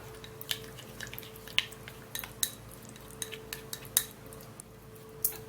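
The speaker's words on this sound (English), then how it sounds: "so stir this all up" A spoon stirring an under-eye remedy mixture in a small bowl, giving faint, irregular clinks and taps against the bowl over a low steady hum, no talking.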